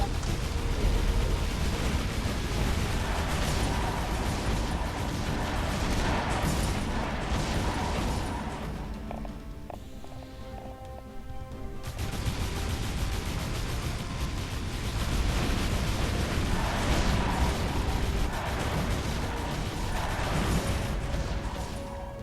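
Turret fire from an Inferno turret in the Defense Grid 2 tower defense game, a dense, continuous roar of blasts and crashes that runs loud throughout, dipping briefly in the middle before surging back.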